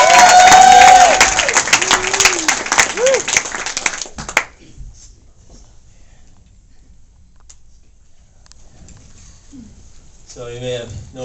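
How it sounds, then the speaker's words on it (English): A comedy club crowd claps and cheers as stand-up comedian Elliot Boese is welcomed, loud and dense for about four seconds before falling away to near quiet, with voices and a brief burst of sound near the end. "a great big round of applause"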